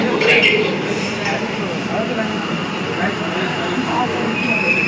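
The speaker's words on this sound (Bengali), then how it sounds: "ফাইনালি মেট্রো ঢুকে গেছে, এই যে দেখতেই পাচ্ছ।" An underwater metro train pulls into a crowded station beneath the Ganga, a steady loud rumble and hiss of the arriving cars filling the platform, with chatter from the crowd underneath.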